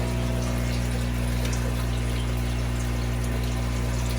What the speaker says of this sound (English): water goes in there and then goes to my sump